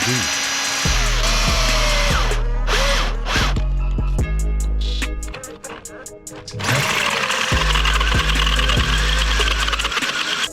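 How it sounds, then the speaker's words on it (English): A power drill with a 6mm bit whines loudly in bursts, bogging and revving as it bores into a hardened steel socket, with brief pauses between runs. "I used 6mm drill and made the hole about 7mm deep."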